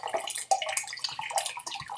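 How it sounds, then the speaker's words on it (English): Water poured from an empty McClelland's Islay whisky bottle into a drinking glass, a close, steady splashing trickle running about two seconds with brief gurgles as the flow shifts. "I'm pouring this into my water glass"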